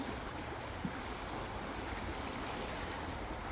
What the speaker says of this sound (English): Wow, look how fast this water's going.